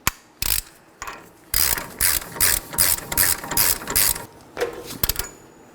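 A ratchet torque wrench clicks in quick repeated bursts while tightening a steering knuckle nut on a 2013-2019 Nissan Sentra, a near, sharp rhythmic ratcheting in several strokes.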